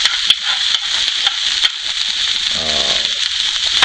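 Onions browning in a pan on an electric stove give a steady, close sizzle and fry hiss with a few stirring clicks and scrapes, during a Fettuccine Alfredo cooking session.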